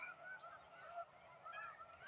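Snow geese honk in flight over a wildlife refuge nature trail, a loose chorus of repeated calls at middle distance over steady outdoor background.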